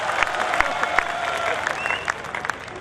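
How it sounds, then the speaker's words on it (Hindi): An audience at a Marwari-language comedy show applauds with dense, steady clapping that carries through the clip and fades slightly near the end, with scattered crowd noise under it. "तो जरा मारवाड़ के लिए एक बार जरा जोरदार तालियां बजा दी"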